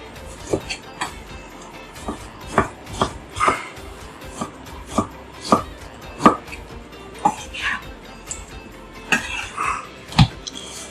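A knife chopping tomato on a cutting board in a kitchen, with irregular, distinct close chops and knocks against the board, some soft handling sounds between strikes.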